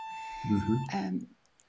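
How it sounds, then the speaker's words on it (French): A small electronic beep holds a steady high tone, then cuts off as a person starts talking over it. "Il y a un petit bip bip, on s'en occupera après."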